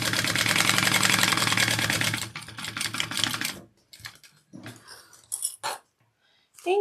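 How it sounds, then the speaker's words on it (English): A sewing machine stitches down the sides of a slip pocket on a fabric shoulder bag, running in a fast, steady whir for a few seconds before breaking into short, stop-start bursts with pauses between them. "I'm just sewing down the sides here of my slip pocket"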